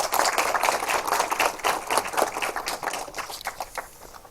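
An audience at a high school lecture applauds to welcome a visiting professor, a dense burst of many hands clapping together that fills the room and slowly thins toward the end, with no talking over it.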